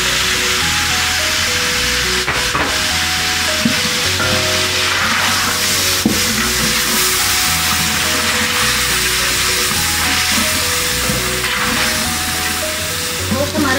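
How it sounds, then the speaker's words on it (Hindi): Mutton with whole spices and paste sizzles steadily in a pan, a continuous loud hiss with occasional stirring clinks, while low background tones run underneath. "5 मिनट तक हम मटन को अच्छी तरह से भूनेंगे"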